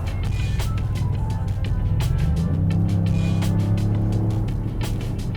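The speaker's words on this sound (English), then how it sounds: "The V6 engine in this car does make a nice noise" Genesis GV80 Coupé V6 engine with augmented cabin sound, a steady loud hum from inside the cabin that deepens and rises in pitch partway through as the engine picks up, with faint clicks over it.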